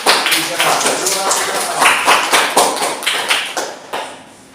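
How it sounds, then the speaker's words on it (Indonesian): A small group in a classroom claps in uneven bursts close by, the applause rising and falling before tapering off. "Jadi kita beri tepuk tangan untuk kelompok 3."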